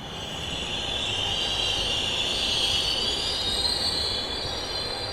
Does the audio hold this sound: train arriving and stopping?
yes